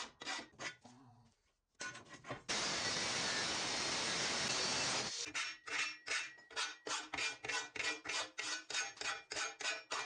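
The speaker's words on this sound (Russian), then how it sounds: "все заусенцы убираю при помощи напильника" A hand file rasps along a steel angle to clear off burrs, a loud continuous scraping for a few seconds between bursts of short, rhythmic strokes, close up with no talk.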